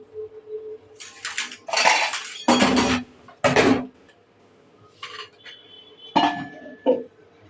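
Pots, pans and cutlery are washed in a kitchen after cooking pilaf, with loud close clattering bursts, scraping and water rinsing in uneven clusters separated by brief pauses, and a few lighter clinks near the end.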